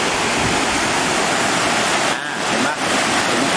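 Wang Ka Duean waterfall beside a campsite in Lopburi, a loud, steady, broadband rush of falling water close by that fills the whole clip, with two brief dips in level.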